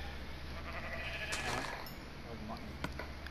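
A sheep in the video game Minecraft bleats a few times, faint and short, against steady background noise.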